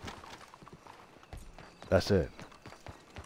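Horse hooves clip-clopping in Red Dead Redemption 2, a steady run of light, close hoof strikes with a person speaking briefly over them in the middle.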